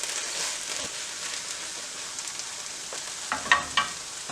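Spinach cooks in a pan, hissing with a continuous soft sizzle and crackle, while a few louder clinks or stirs sound near the end.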